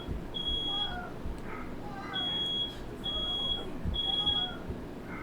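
Smoke alarm going off in a room after a firework was set off indoors, giving repeated shrill electronic beeps in short bursts over a noisy background.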